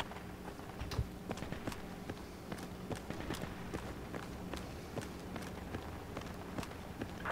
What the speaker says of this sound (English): I'm hearing footsteps on me.